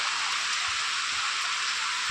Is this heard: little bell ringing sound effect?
no